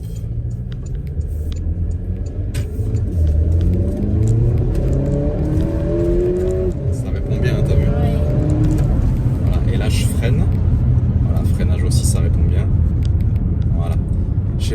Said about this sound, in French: je vais essayer de monter un peu dans les tours pour que vous entendiez un peu le bruit du moteur.